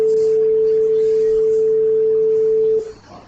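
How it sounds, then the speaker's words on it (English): A pure sine wave tone holds one steady pitch, loud and unbroken, for nearly three seconds before stopping. "As you know, this is a sine wave, and this is what sound wave will sounds like."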